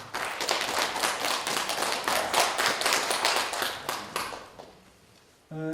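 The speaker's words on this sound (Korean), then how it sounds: "이럴 때 박수 한번 치셔야죠." Listeners at a Buddhist dharma lecture in Gongju, Korea, clap together in a brisk burst that tapers off after a few seconds, and a voice briefly starts up at the very end.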